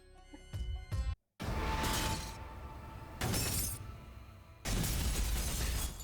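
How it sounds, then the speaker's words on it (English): In the video game Danganronpa V3, glass shatters after a hammer is thrown at it, with several loud crashing bursts separated by brief pauses, close and dense. "the hammer in my hand, faced the glass in front of me, and threw it as hard as I could"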